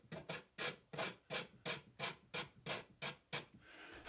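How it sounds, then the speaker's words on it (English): Sandpaper on a sanding block rasps in about nine steady back-and-forth strokes, close and crisp, with no talking. "I'm going to quickly clean that up with a sanding block."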